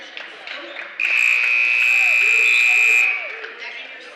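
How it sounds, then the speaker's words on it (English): Substitution buzzer at a boys' high school basketball game, one loud sustained electronic tone lasting about two seconds inside a gym, with sneaker squeaks and crowd murmur around it and someone talking nearby. "every time there's a substitution, why do you have to hit the buzzer?"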